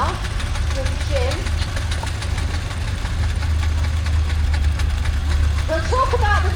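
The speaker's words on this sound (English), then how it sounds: "we've got a rather splendid crane engine coming around now with Jim" A steam crane engine runs at a steam rally at Parham Park, Storrington, Sussex, giving a steady low chugging rumble that continues throughout while a commentator talks over it and other voices sound in the background.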